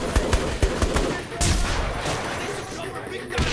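A big gun firing in Saints Row: The Third, a rapid burst of heavy shots at the start, then scattered loud blasts and rumble, close, with voices talking amid the gunfire.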